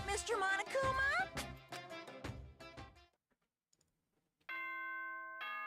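A bright multi-tone electronic morning chime from the game Danganronpa rings out after a stretch of quiet, following earlier game voices and clattering sounds.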